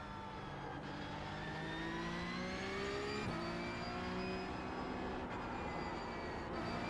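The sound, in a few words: Porsche 911 Cup race car sliding, racing video game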